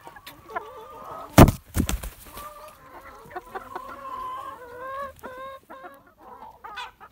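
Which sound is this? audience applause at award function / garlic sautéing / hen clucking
hen clucking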